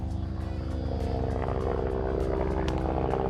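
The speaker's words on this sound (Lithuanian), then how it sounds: "Malūnsparnis." A helicopter passes overhead with a continuous engine drone and a fast, regular chop of rotor blade pulses. It sounds fairly close and steady throughout.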